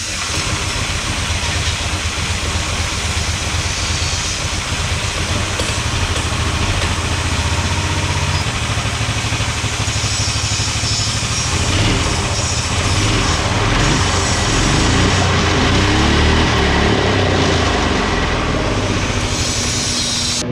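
An 18 hp go-kart engine running loud and close, a steady rough mid-pitched drone that holds throughout with slight changes in speed and no pauses.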